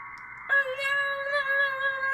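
Steady multi-tone JS8Call digital radio data signal, a band of sustained warbling tones shifting pitch slightly, alone and fairly loud after a brief lower tone at the start.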